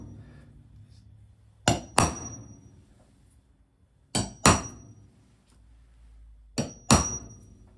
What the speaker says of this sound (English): I just take a punch and a hammer, center the punch in the middle of the hole.